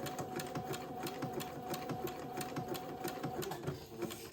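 A sewing machine stitches entredeux insertion, running steadily up close with a rapid, even mechanical clatter that stays constant throughout, no one speaking.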